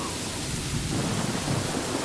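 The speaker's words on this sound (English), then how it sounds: "the rain," A rain and thunder sound effect: a steady, loud wash of rain with low rolling thunder rumbling underneath throughout, and no voices.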